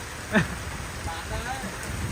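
Heavy rain pours steadily over an outdoor bonsai market, a dense continuous hiss with a brief louder patter early on, while people talk faintly underneath.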